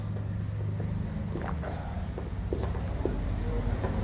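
Chalk or pen writing on a board during a maths lesson, with short scratchy strokes and taps coming in bursts, close and moderately loud over a constant background hum.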